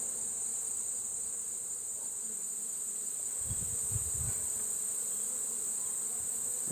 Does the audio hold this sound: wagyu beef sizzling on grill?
no